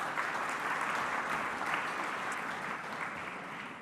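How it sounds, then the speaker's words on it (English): Steady applause from an evening crowd at a football awards night, the 2023 Merv Cartwright Medal, holding a dense, even clatter of many hands for the full stretch with only a slight fade toward the end. "round of applause, why not?"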